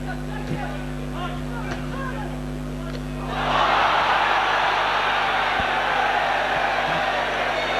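A football crowd at a Grimsby Town versus Barnsley match in 1992 erupts into a loud, sustained roar of shouting that swells abruptly partway through and holds steady to the end.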